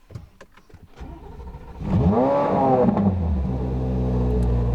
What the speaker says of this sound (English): Then start it for 3 minutes, shut it off for a minute, start it for 3 minutes, shut it off for a minute, and then start it and drive it.